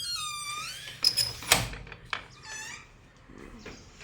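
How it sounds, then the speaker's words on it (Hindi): A door is opened early in the morning, letting out a series of high, creaky squeaks along with a couple of dull knocks, fairly close and with no talking. "और अब मैं दरवाज़ा खोल ली हूँ।"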